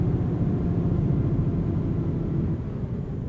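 A Western Star truck in American Truck Simulator driving in Colorado gives a steady low engine rumble that dips slightly near the end as it downshifts. The sound is loud and continuous, with no voices.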